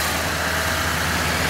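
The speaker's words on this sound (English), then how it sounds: "Extremely dependable engine." A 6.6 liter Duramax diesel engine in a 2009 GMC C5500 bus idles with a steady low rumble, continuous and fairly close with no talking.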